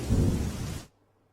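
Heavy downpour with thunder in Keshod, Junagadh, rushes as a loud, dense roar with a low rumble for under a second, then cuts off abruptly into near silence.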